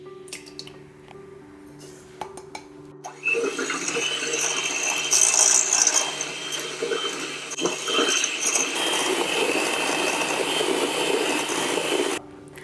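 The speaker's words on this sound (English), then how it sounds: "we're going to mix together or beat together our eggs and our sugar" An electric mixer beats eggs and sugar for tiramisu, starting after a few quiet clicks and then running as a loud, steady mechanical whir that lasts about nine seconds before stopping abruptly.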